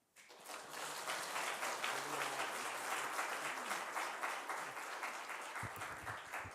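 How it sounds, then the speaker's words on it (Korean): A church congregation gathered for a New Year revival meeting breaks into steady, sustained applause to welcome a visiting pastor, dense clapping holding evenly from start to finish with a brief low rumble near the end. "목사님 환영하는 마음으로 박수 한번 하겠습니다"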